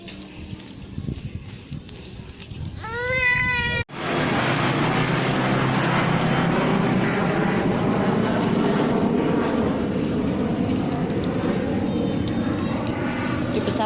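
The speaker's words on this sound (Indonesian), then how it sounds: "Di pesawat tuh." A fixed-wing airplane flies overhead in the late afternoon. A loud, broad roar swells in and holds for about ten seconds, with a voice heard just before it starts.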